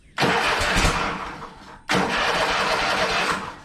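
Engine cranked without the choke, two loud close bursts of rough engine noise, each about one and a half seconds long, with no talking.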